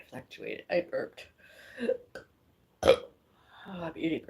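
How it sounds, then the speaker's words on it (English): A single short, loud burp in the middle of a woman's live stream, standing alone in a brief pause between stretches of her chatty talk. "I burped."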